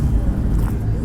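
Twin-turbo Mercedes C63 V8 or C43 V6 engine at a car meet, a steady deep rumble close by with faint background voices.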